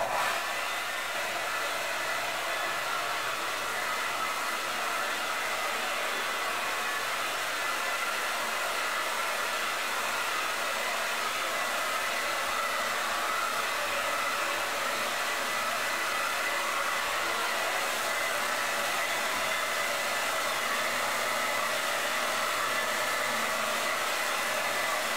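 Hair dryer blowing steadily on wet-set curly hair, a constant loud whooshing roar that holds at an even level throughout with no voices over it.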